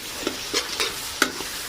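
Ground spice paste hits a hot pan, producing a few short, sharp spits and crackles in quick succession over a quiet background.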